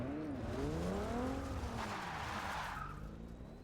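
Tires skid and squeal after an e-brake pull in the Forza racing video game, a loud continuous screech with wavering tone under engine roar, fading slightly at the end.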